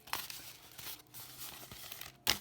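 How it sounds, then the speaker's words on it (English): Paper crinkling and rustling as a handmade summer-themed pocket letter is slid back into an envelope, a steady soft crackle with a sharper crinkle near the end. "And put it back in the envelope."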